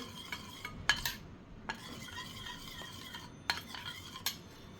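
A spoon stirs a colored papdi batter in a bowl, with soft scraping and a few light metallic clinks against the sides, fairly quiet.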